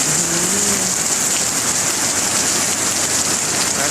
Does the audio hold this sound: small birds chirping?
no